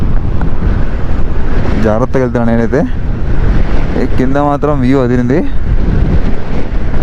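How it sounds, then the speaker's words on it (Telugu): Strong wind gusts across a dusty, stony mountain road in Nubra Valley near Hunder, a steady broadband roar buffeting the microphone throughout while someone talks over it. "ఫుల్ గాలి వీస్తుంది"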